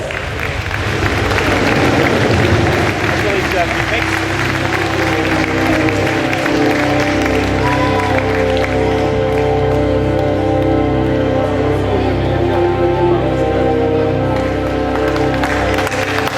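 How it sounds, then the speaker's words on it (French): An audience at a prize results ceremony for the Duchesse de Gonzague contest applauds loudly and continuously, a sustained wash of clapping with some cheering that fills the whole stretch. "j'appelle Elodie Ress, que vous allez applaudir très très fort."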